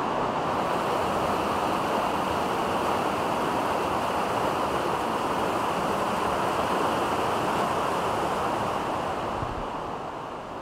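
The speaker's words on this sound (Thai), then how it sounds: "เราได้ยินเสียงลั่นโครมครามของน้ำตกก้องสะท้อนอยู่ในถ้ำ" A continuous, dense roar of rushing water from a waterfall echoing inside a dark cave, loud and unbroken, with a hollow, reverberant quality.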